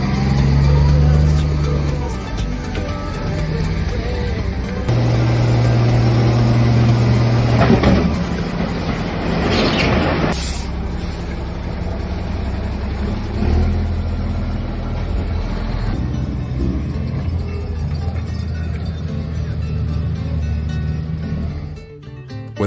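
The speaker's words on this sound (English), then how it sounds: "The powerful engine roars." The diesel engine of a heavy off-road truck roars loud and steady, rumbling deep and rising in revs midway, with a brief clank near the middle.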